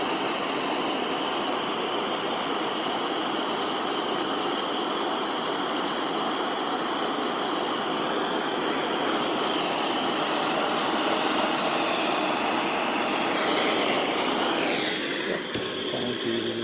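Pressurized air hisses out of a dirt bike exhaust valve, a steady, broad, loud rush that continues for the whole stretch and changes pitch slightly near the end.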